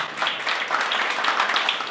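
Audience applause at a hospital bioethics committee recognition ceremony, a steady crowd of clapping hands filling a short stretch, fairly close and alone without speech.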